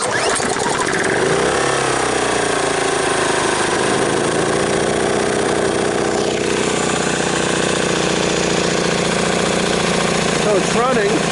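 A Cub Cadet snowblower engine, primed with starting fluid, cranks and catches, then settles into a loud, steady, close-up running drone that holds without pause.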